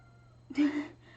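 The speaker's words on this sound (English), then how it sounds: "I hear a cat outside the door." A cat meows outside a closed door, one short plaintive call with a fainter second tail, heard from a slight distance over a steady low room hum.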